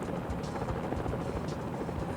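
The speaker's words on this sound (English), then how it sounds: "And he gets picked up by this other helicopter." A helicopter in the Mission: Impossible video game, a steady muffled rotor drone with a faint choppy pulse, fairly quiet and alone.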